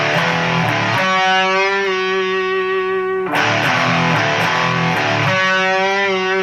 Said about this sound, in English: kick on your distortion for this